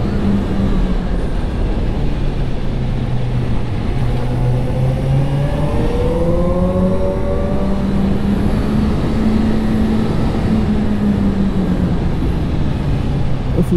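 Suzuki GSX-R750 motorcycle ridden on a race track in a single gear, engine note rising and falling as the throttle opens and closes, loud and continuous with wind rush.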